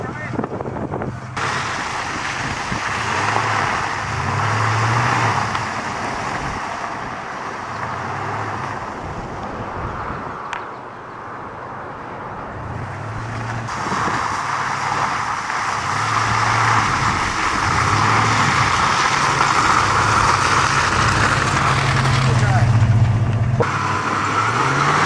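A Ford Bronco engine roaring steadily while mudding in two-wheel drive, loud and sustained with rising and falling revs, buffeted by wind noise and accompanied by talking.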